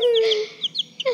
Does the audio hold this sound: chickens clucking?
yes